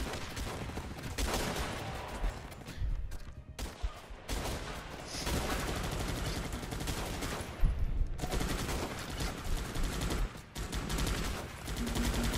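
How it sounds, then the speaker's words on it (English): Dense, continuous gunfire from commandos and machine gunners in the strategy game Guns Up!, with overlapping rapid bursts and popping shots keeping up a loud, steady barrage throughout. "there's that random popping of those barrels you gotta love from the commandos"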